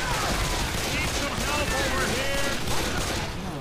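Constant heavy gunfire fills a Left 4 Dead 2 match, a dense, unbroken barrage of shots at close range with voices audible underneath.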